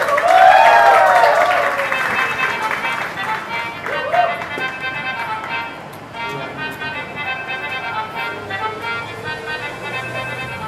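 Audience applause and crowd noise at a Marathi song launch event, loud at first and then easing, with music tones and some voices mixed in.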